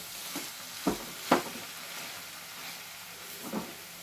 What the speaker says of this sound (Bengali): আলুগুলোকে আমি একটু ঘেঁটে দিলাম।